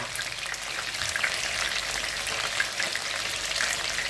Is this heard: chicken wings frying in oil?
yes